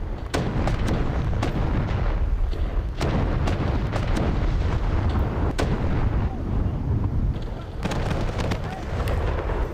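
Heavy naval gunfire from the forward turrets of a Kronshtadt heavy battlecruiser in War Thunder Mobile, loud booming salvos and blasts repeating across the whole stretch amid continuous battle noise, with a voice talking over it.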